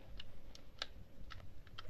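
Sticky slime is pressed and snaps out a string of sharp little clicks, about six quick pops, close up, spaced irregularly over two seconds with no talking.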